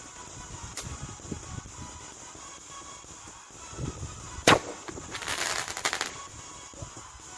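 A firework launches from a cued electronic firing system with a sharp crack and a hiss, followed by a crackling burst a moment later, set against outdoor background noise.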